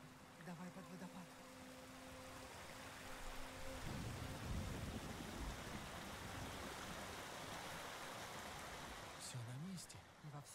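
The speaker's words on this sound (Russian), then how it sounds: "Давай под водопад." A waterfall in the video game Ghost of Tsushima roars in a loud, continuous broadband wash, with voices and faint tonal sounds over it at first.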